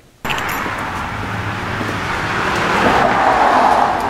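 A Ford Fox Body car engine runs steadily on a test drive, a continuous broadband road and motor roar that swells gradually louder toward the end, with no talking.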